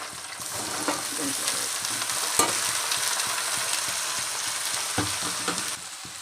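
Broad beans fry in hot oil with curry leaves in a pan, a steady close crackling sizzle broken by occasional stirring clicks and scrapes.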